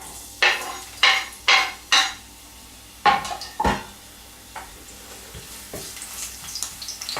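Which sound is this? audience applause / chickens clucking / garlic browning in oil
garlic browning in oil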